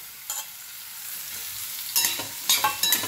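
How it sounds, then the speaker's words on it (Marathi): Green chilies fry in a pan as a spoon stirs them, giving a steady close sizzle broken by several sharp scraping strokes that cluster toward the end, with no talking. "पहा आपली मिरची चांगली तळली आहे"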